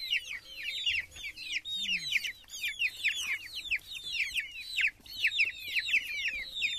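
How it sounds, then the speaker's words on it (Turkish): Chicks peep constantly in rapid, high-pitched cheeps, a busy overlapping chorus close by, with a low cluck or two underneath. "Bunlar da bizim yaramaz civcivler."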